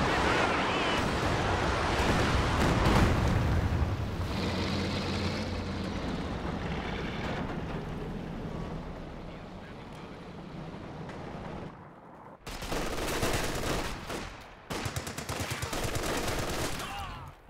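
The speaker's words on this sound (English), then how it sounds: "recon plane gets shot down by the quad" A quad anti-aircraft gun fires in Company of Heroes 2 as a recon plane is brought down, with rapid, rattling bursts over a roaring, wind-like wash, breaking off briefly and then resuming loudly.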